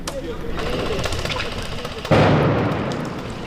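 An airsoft stun grenade goes off with a sharp loud bang during civilian resistance training, following a stretch of rapid popping shots and shouting voices, its echo trailing afterward.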